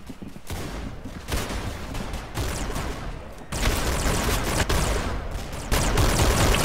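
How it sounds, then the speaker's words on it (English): Dual volcanic guns in Roblox Arsenal fire in dense, continuous rapid bursts, loud and close, with brief breaks before the barrage resumes even stronger. "I'm not used to any of these guns. It's the dual volcanics."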